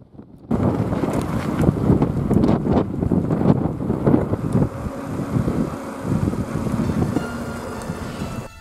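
Strong wind gusts at Lago del Matese buffet the microphone in a loud, continuous roar with rushing gusts and a faint wash of water underneath.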